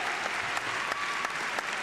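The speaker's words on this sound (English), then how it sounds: "Let's give them a round of applause, ladies and gentlemen." An audience at the Crufts agility championship applauds continuously in a large indoor arena, a dense, even wash of clapping with a few sharper claps poking through.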